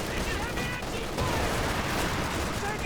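Tank guns fire long-range shots at Panzer IVs during a Company of Heroes 2 battle, producing a dense, steady wash of gunfire and rumbling combat noise with no clear break, moderately faint.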